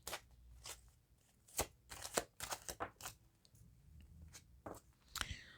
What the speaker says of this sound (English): let's pull some cards and let's see what's going on